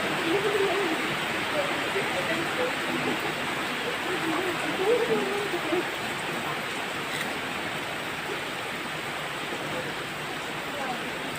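Steady rain falls during an Indonesian church service gathering, a dense continuous hiss with voices faintly murmuring underneath.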